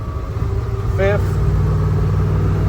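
A 1968 Maserati Ghibli's engine drones steadily as it pulls through the gears, and a voice briefly speaks over the low rumble.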